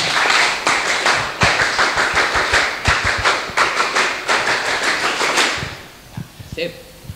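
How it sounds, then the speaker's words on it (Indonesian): Students perform a scout clap in unison, a rapid rhythmic series of sharp group claps in a patterned beat lasting several seconds, then stopping and leaving a few scattered claps and faint room sound. "Dua kali tepuk pramuka."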